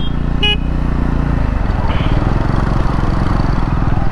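Triumph Speed 400 or Scrambler 400 X motorcycle engine revving loud and close throughout, a steady low rumble with a short horn-like tone near the start and background voices.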